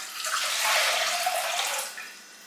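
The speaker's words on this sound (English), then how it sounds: "You're going to take 4 cups of water and put it in your pan" Water poured into a cooking pan for steel-cut oats, a steady rushing splash that holds for about two seconds and then tapers off, heard alone at close range.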